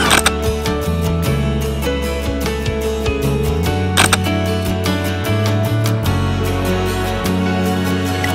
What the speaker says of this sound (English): can achieve up to 15 frames per second, continuously shooting while tracking focus